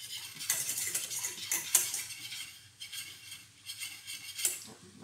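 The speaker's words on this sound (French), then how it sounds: "Donc je continue de mélanger." Mushrooms stirred in a pan as they give up their water, with scattered light clinks and scrapes of a utensil against the pan over a soft cooking sizzle; no talk.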